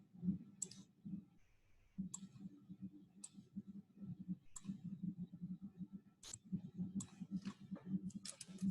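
Keys on a computer keyboard tapped one at a time, sparse sharp clicks spaced a second or so apart over a low steady hum, close and quiet.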